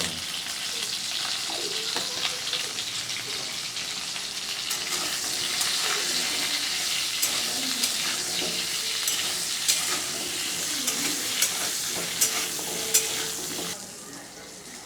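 Cut potato pieces frying in hot oil in a wok, a steady loud sizzle with a spatula stirring and occasional sharp clicks against the metal, continuous for the whole stretch.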